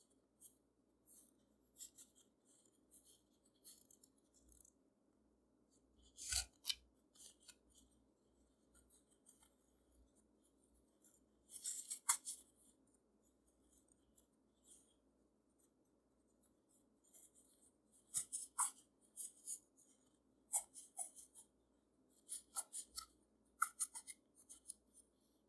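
Scissors snip through paper while cutting out the body of a handmade paper doll, several separate bursts of short crisp cuts with quiet gaps between them, close and fairly faint.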